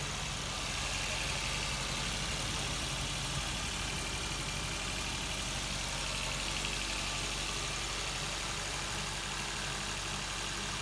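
A Maruti Suzuki Swift VVT petrol engine, freshly overhauled with new head gasket and timing, runs at a steady idle, a continuous even hum with hiss, close by and unchanging throughout.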